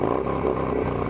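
A Harley Davidson Lowrider S with an aftermarket exhaust and a Jagg SlimLine oil cooler, its engine revving close up in a loud, steady low throb over a short moment.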